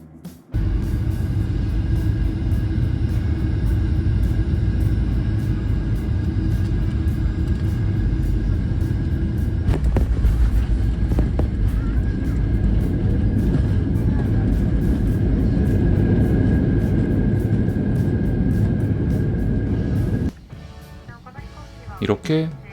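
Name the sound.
Skymark Airlines Boeing 737-800 landing at Fukuoka Airport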